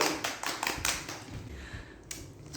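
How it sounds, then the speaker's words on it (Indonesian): Applause in a classroom during a computer and basic networking lesson, a short burst of scattered hand claps that thins out toward the end, fairly close. "Tepuk tangan dulu dong untuk Ayu."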